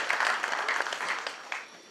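Audience applause at the St. Lucia Industrial and Small Business Awards ceremony, a soft, fairly distant patter of many hands that tapers off within two seconds.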